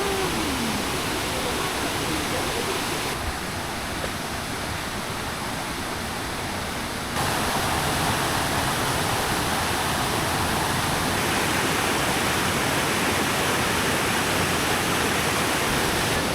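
Dense broadband rushing of a waterfall along a forest hiking trail at Krok E Dok waterfall in Saraburi, Thailand, a constant loud roar filling the whole clip with no pauses.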